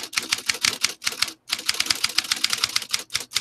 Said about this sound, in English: My theme song is literally a typewriter.